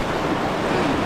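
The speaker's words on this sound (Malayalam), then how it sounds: "പച്ചയുടെ ഇടയിൽ കൂടെ വെള്ളം ഒഴുകുന്നത്" Clear stream water flows through green vegetation in Nagaland, a steady broadband rushing wash, close and even, over about a second.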